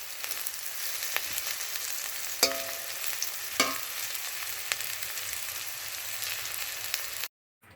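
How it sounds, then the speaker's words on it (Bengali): Small hilsa fish frying in hot oil, a close, continuous crackling sizzle with a couple of sharp clinks from stirring, cutting off abruptly near the end. "আর মাছটা ভাজা হয়নি এখনও, মাছটা ভাজবো।"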